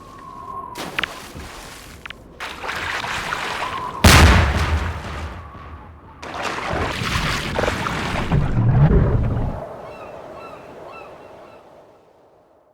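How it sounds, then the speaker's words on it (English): Distant gunfire from Combine soldiers in Half-Life 2, heard while driving toward them: scattered sharp bursts and booms over a continuous rumble, with one loud hit near the middle. "Just listen to how a combine soldier's gunshots change as you drive towards them."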